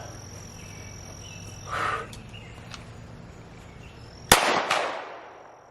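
A pistol fitted with a red dot sight fires one sharp, loud shot near the end, following an earlier softer pop, with faint outdoor background hiss between.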